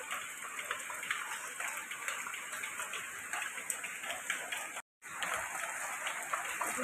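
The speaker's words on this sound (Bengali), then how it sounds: "সকাল থেকে বৃষ্টি, দেখছো কি অবস্থা।" Morning rain falls steadily outside a home as a dense, even patter of drops. It runs continuously except for a brief cut near the end, with no clear talk.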